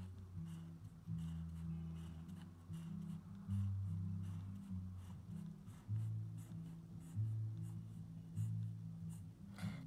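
An ink pen draws parallel hatching lines on paper, making soft rhythmic scratchy strokes that repeat steadily and sound close and faint.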